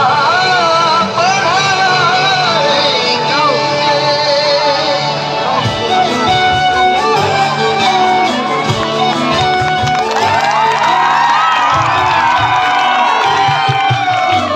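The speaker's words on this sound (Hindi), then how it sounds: "जोरदार तालियां बच्चों के लिए।" An audience at a school annual function cheers and whoops for a children's performance, a loud, continuous crowd roar with shouting children and some music-like tones throughout.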